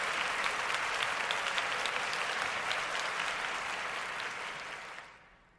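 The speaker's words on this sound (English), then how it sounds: "You get a full round of applause." Full round of applause, a steady, fairly faint wash of many clapping hands that holds evenly and then drops away near the end, with no speech.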